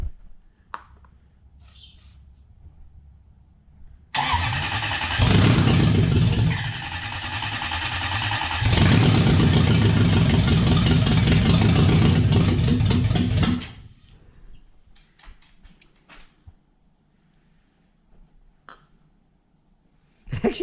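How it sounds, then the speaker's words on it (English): A Lexus 1UZ-FE V8 engine with a P1300/P1305 ignition fault cranks, fires and runs roughly for several seconds at a loud, uneven idle, then stalls into quiet clicks and faint handling noises. "Engine start. Let's see if I can do this on my own."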